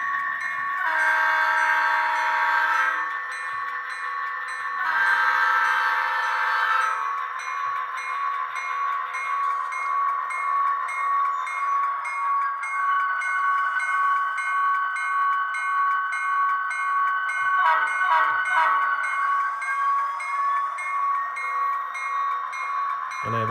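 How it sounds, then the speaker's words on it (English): An HO-scale ScaleTrains DM&E SD40-2 model locomotive with sound gives a loud, steady diesel engine drone with a sustained horn-like tone, brief blasts near the start and again late on, building gradually as it gathers momentum to move. "because it's a low sound equipped locomotive, it needs to gain momentum before it can actually move"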